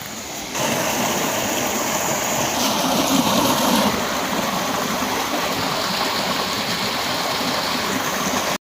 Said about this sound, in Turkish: Yine karşımıza bir gümüş dere çıktı.